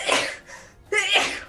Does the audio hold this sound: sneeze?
yes